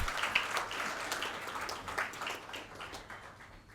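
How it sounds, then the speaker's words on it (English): An audience at an academic panel on global management gives the speakers a round of applause, the clapping fairly faint and distant, strongest at the start and thinning gradually toward the end. "let's have a round of applause for all these wonderful speakers"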